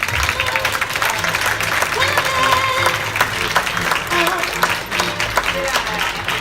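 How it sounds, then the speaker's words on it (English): Applause at a retirement party as guest of honor Al Campana is called up, a steady clapping crowd throughout with voices and chatter mixed in and a low rumble toward the end. "Let's have a big round of applause and ask our guest of honor, retirement, Mr. Al Campana, to come up."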